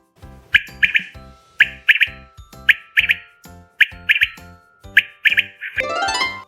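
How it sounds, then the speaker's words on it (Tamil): A koel, a cuckoo, calls in a series of sharp repeated chirping notes with short even pauses between them, close and clear, ending in a fuller burst of song. "நான் தான் குயில்."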